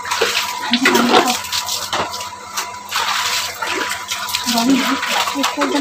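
Running water splashes and sloshes as large chicken pieces are washed in a home kitchen, with people talking over the water.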